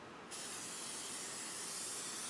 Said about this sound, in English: spray her up and get it all greased so that it doesn't stick too much